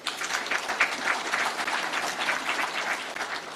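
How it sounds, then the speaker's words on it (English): Applause from an audience at a judiciary report presentation, a steady dense patter of many hands clapping that holds evenly throughout without talk. "deserves a clap."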